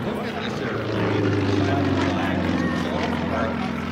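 A propeller airplane flies at the Chilliwack air show, its engine a continuous droning roar that swells slightly and holds steady at a moderate distance, heavy with outdoor noise.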